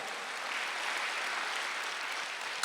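A church congregation applauding during a Sunday worship service, a smooth, even patter of clapping that sounds somewhat distant and subdued and holds steady before cutting off abruptly.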